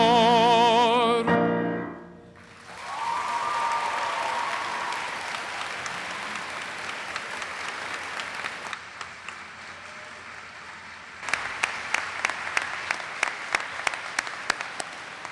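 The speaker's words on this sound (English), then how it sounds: "Can we give Luke another round of applause, please?" A convocation audience breaks into full applause as a sung Italian piece ends. The sustained crowd clapping swells, then thins, and sharp individual claps ring out near the end.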